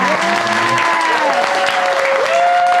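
Applause and cheering from a small audience at a cafe concert fill the room, loud and steady throughout with no gaps.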